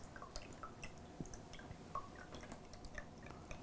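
Liquid from a cracked-open brown coconut drips and trickles, small wet plinks and faint splashes scattered irregularly over a soft background hiss, close and quiet.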